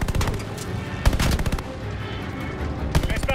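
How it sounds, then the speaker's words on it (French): Rapid machine gun fire during the Midway mission of Call of Duty Vanguard, dense rattling bursts of shots close and loud, broken by brief pauses, with a voice shouting over them. "Mitrailleuse sortie!"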